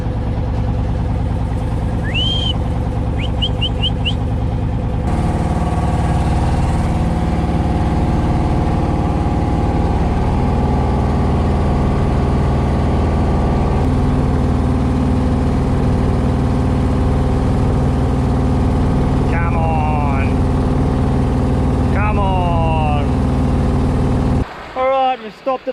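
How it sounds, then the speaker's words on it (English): A noisy boat engine drones loud and steady through the whole stretch, a rough constant rumble. A voice speaks over it, and short chirping sounds break in now and then before it cuts off abruptly at the end. "This boat's so noisy."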